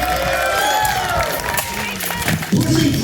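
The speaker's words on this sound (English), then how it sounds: "let's get a mighty cheer for Sir Jason." Crowd cheering and shouting at a medieval sword and shield duel tournament at a castle, lively mixed voices with some clapping, fairly close and continuous.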